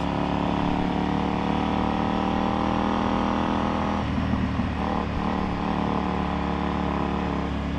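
A KTM Super Duke motorcycle being ridden, with a loud, steady engine drone and wind roar that shifts in pitch about halfway through as the revs change.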